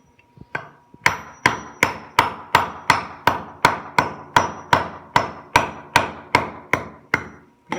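Steady hammer blows strike metal in a hammer cut, about sixteen sharp, ringing impacts at a regular pace of roughly two per second, loud and close, with no talking.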